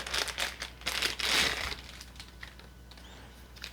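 Packaging for a HyperX ChargePlay Base Qi wireless charger being unwrapped, a close, brief burst of crinkling and rustling plastic that fades to quiet near the end.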